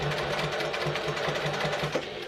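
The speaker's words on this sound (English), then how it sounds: "I'm just going to sew from the top to the bottom" A sewing machine stitches a quarter-inch seam down a clutch wallet from top to bottom, a steady, rapid mechanical whirr and clatter running close and continuous throughout.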